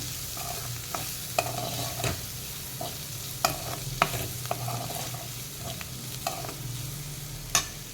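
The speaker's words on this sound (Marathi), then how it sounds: "तिखट घालूया छान मिक्स करून घेऊया" Chili powder is stirred into a pan of cooking raw-mango dal, a soft steady sizzle under repeated close spoon scrapes and clinks against the pot at an uneven rhythm, quiet overall with no talking.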